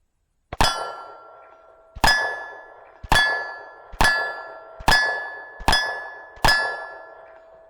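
Seven gunshot rounds strike steel shooting targets, each a sharp crack followed by a bright metallic ring that decays over about a second, spaced roughly a second apart.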